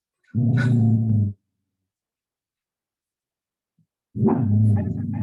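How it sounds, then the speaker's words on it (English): A dog growls in two low, sustained rumbles of about a second each, separated by several seconds of silence, fairly close in a quiet room. "You hear my dog growling in the background."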